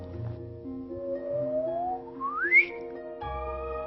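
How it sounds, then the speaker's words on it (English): Gravitational-wave chirp from two merging neutron stars rendered as sound: a whistle-like tone glides steadily upward over about two seconds and then cuts off, layered over a sustained harmonic musical drone. "Take neutron stars in the act of merging. They make this wonderful chirp."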